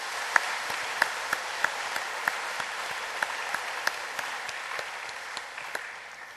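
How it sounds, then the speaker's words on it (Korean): During a church anniversary service, a congregation claps in a soft, steady wash, with distinct louder claps standing out at regular intervals above it, heard from some distance. "지난 84년 동안 우리 교회와 함께 하신 하나님께 영광의 박수를 올려드리겠습니다"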